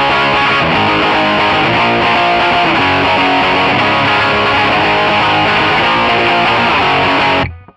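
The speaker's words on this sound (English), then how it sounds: "It's like this constant, just like noise that doesn't go away, right?" Heavily distorted pop punk electric guitar through Amplitube 5 MAX, with a constant hissy, fizzy noise across the top end from the EQ, loud and dense, cutting off abruptly at the end.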